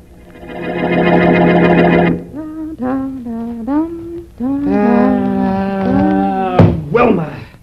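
A woman hums a wavering tune, loud and close, in sustained notes broken by short pauses, ending in a brief knock-like thump in an old-time radio drama.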